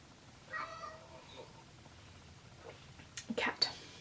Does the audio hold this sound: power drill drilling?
no